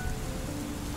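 Steady rain from a horror cartoon story, a dense, even hiss of falling water that fills the whole short stretch with no pauses or talk.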